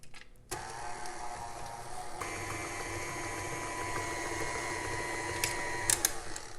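Electric mixer whirring steadily through cookie dough with vanilla, a continuous close mechanical hum after it switches on, with a couple of brief clinks near the end.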